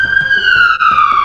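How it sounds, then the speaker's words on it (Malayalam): A loud ambulance siren wails nearby in a steady, sustained tone that slowly slides downward in pitch, dominating the scene without a break. "എന്താ നമ്മുടെ ഇവിടെ ആംബുലൻസ് വന്ന് കിടക്കുന്നു"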